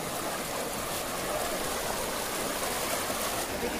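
Stream water rushing steadily across a path near Kotdwara on the route to Kanvashram, a continuous broadband wash of flowing water with no talk over it.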